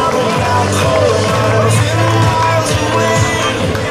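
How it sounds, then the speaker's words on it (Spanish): Crowd at a trophy ceremony for a cycling race in Fitero, Navarra, breaking into applause and cheering, a dense wash of claps with shouts and whoops, loud and close, with an announcer's voice over it. "Eso merece un aplauso."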